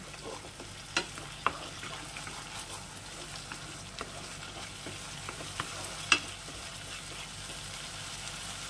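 Ginger paste and other ingredients for dal curry are stirred and sautéed in a pan, with scattered scraping clicks of a spoon over a soft, constant sizzle, close up and without talk.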